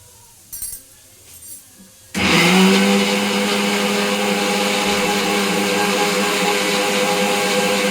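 After a few seconds of quiet clinking, a mixer grinder grinding cumin, garlic and coconut milk starts up loudly and whirs steadily through the rest, a constant high-pitched grinding drone.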